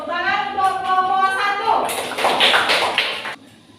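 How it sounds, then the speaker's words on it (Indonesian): Classroom applause for a student group after a poem reading, a burst of clapping that starts partway through and runs for over a second before stopping, preceded by a voice speaking. "Tepuk tangan untuk kelompok"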